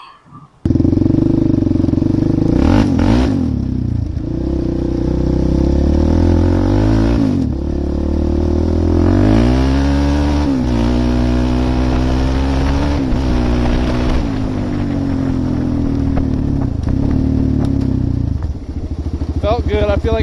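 A DVX400 ATV engine, newly tuned with its carburetor needle raised a notch, revs loud and close, its pitch climbing and falling through several throttle pulls over a sustained idle.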